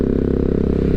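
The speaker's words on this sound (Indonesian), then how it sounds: "terutama nih di bagian knalpot. Masih kayak meledak-ledak gitu ya." A Yamaha XMAX scooter idles close by through its aftermarket exhaust, a loud, rough low-pitched throb with rapid uneven pulsing that sounds like sputtering pops.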